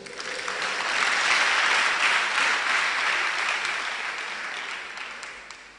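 Sustained applause from a church congregation, steady and dense, swelling slightly then tapering off near the end.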